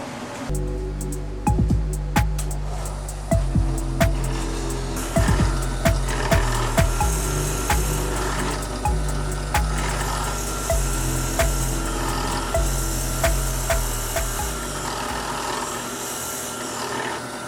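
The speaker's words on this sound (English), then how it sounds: "we're going to drill them to 7 millimeters so the brass tubes can be glued in" A drill press whirs and grinds, boring 7 mm holes into wooden pen blanks close by, with repeated bursts of boring and clunks as the bit is lowered and raised.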